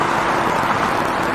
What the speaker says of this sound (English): It's probably going to be the traffic noise, I would imagine. A lot of cars over there.